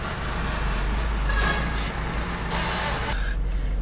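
A truck rumbles past on a road with a deep, steady engine drone, close and moderately loud, swelling slightly in the middle, with no voices heard.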